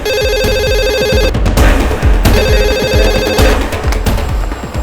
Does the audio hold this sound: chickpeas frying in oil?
no